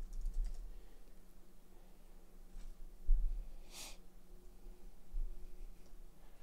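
Someone types a search on a computer keyboard, with a few scattered close keystrokes and a soft breath or sniff in the middle, no talking.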